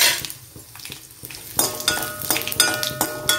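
Mustard seeds, urad dal and dried red chillies crackle and fry in hot oil in a pan, with steady sizzling, scattered pops and occasional clinks of a spoon stirring, close and fairly loud with no talking.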